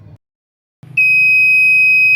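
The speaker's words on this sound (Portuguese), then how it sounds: "quando esse valor é menor do que o nível luz, então o alarme é acionado juntamente com o LED vermelho" An Arduino alarm buzzer, set off by a light sensor reading below threshold, sounds a loud steady high-pitched continuous tone that starts abruptly after some low background rumble and holds until the end.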